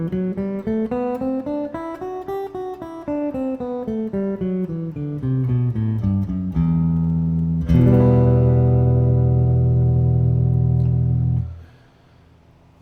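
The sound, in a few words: guitar playing E Aeolian mode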